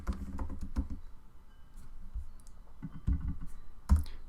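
Typing on a computer keyboard, with bursts of close, soft key clicks in an uneven rhythm separated by short pauses and a few louder taps, with no voices.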